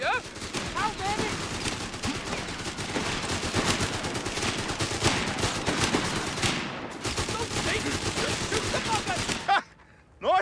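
Rapid bursts of rifle and machine-gun fire crackle almost nonstop in Company of Heroes 3, close and loud, with a brief pause near the end before shooting resumes.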